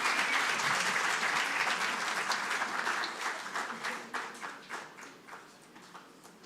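Applause from an audience at a tribute event, a dense wash of many hands clapping that starts full and steadily tapers off, fading toward the end.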